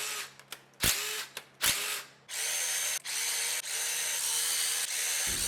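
Power tool bursts, an electric ratchet or drill spinning out engine bolts during head gasket removal on a 2012 Volvo S60 2.5L T5 with bent valves; several short whirs and clicks, then a long sustained close, loud run with brief pauses.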